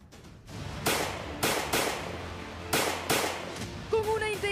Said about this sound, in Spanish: Con una intensa ráfaga de disparos, este valeroso hombre expuso su vida al enfrentarse a peligrosos delincuentes